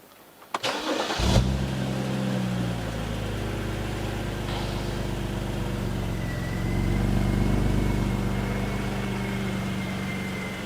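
An inline six-cylinder engine with a timing fault cranks and catches, then settles into a steady, slightly uneven rough idle with a rising swell midway, close by and continuous.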